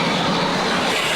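Loud, dense mechanical roar with a steady clattering rush from a newspaper printing press running continuously close by, with no voices.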